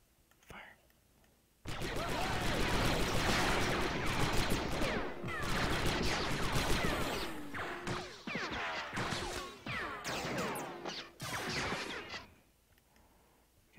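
Dense gunfire from the Men of War strategy game, with bursts and volleys crackling almost continuously for about ten seconds while a voice talks over parts of it.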